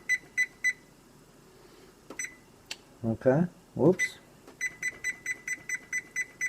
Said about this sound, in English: And I'm going to turn on the timer here.